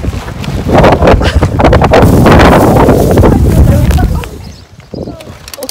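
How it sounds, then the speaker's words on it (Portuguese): Gusty wind buffets an outdoor spot during a picnic setup, rushing loudly against the microphone for about four seconds before easing off. "Começou a ventar o negócio agora."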